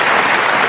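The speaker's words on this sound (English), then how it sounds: "I forgot to give you a clap." A short burst of hand-clapping applause at a soul line dance gathering, dense and close, lasting under a second with no talking over it.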